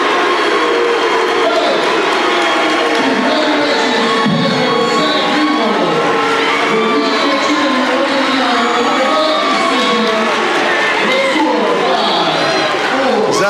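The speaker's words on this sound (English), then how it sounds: "You hate to see the booing, though." Crowd noise fills a high school regional wrestling final, a dense roar of voices and jeers that stays loud and steady from start to finish, with scattered shouts rising over the wash.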